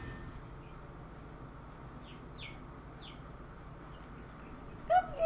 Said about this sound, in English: The birds are up because I'm up, so if you hear them, that's why.